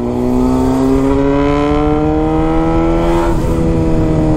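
Honda Hornet motorcycle with a straight-pipe exhaust held at a loud, steady high rev while doing spins, a continuous raw engine drone with a slight pitch rise and wobble, close and with no voices.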